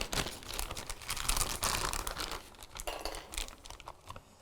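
A plastic piping bag is cut down to fit a cake-decorating coupler, giving steady close crinkling and tearing rustles of plastic throughout, with no talking.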